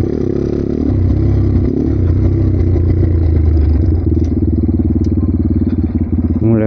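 Small 155cc mini pocket bike engine climbing a mountain road, a loud, close, steady motor drone with a pulsing buzz that shifts in pitch as it works uphill.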